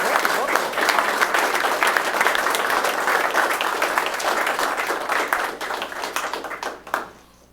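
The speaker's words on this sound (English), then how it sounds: "Big round of applause." Audience at a city council meeting in Geneva gives a loud, sustained round of applause with dense clapping that tapers off and stops near the end.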